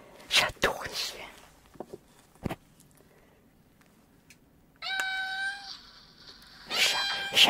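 A cat meows in a sustained, tonal call midway through, set among soft tapping and rustling handling noises and brief breathy sounds in a quiet indoor ASMR setting.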